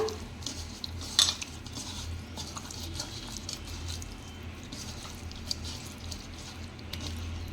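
Fried fish being mixed with lemon juice in a bowl produces soft clinks of a spoon against the dish and faint squishy stirring, close and quiet, with one sharper knock early on and no speech.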